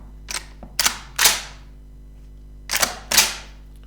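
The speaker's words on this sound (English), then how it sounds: "Anybody will be able to recognize that sound as the Kalashnikov." A Kalashnikov rifle being worked by hand, with five sharp metallic clacks in two groups, three quick ones then a pause and two more, close and loud against a quiet background.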